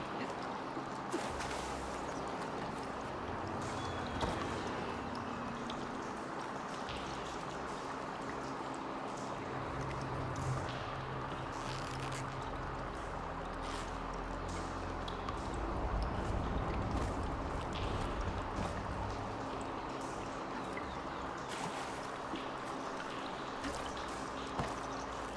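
Steady rushing of flowing water in the Horizon Forbidden West game world, a continuous trickling, pouring stream with faint drips, heard alone at a moderate, even level.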